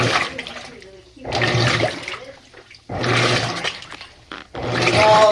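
Water gushes from the faucet of a loaner washing machine in several loud bursts with short pauses between them, and voices are heard alongside.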